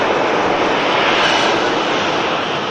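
Airliner taxiing out at Manchester Airport, a steady loud broadband engine roar that holds even throughout, close by with no other sounds over it.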